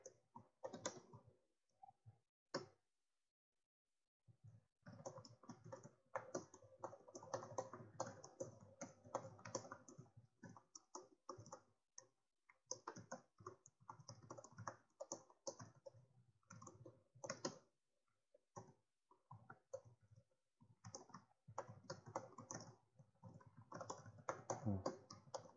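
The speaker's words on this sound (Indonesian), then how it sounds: "Ini gue lagi ngetik ya." Clicky computer keyboard typing in irregular bursts and rapid runs of keystrokes, close and fairly quiet, with short pauses between flurries and no one talking.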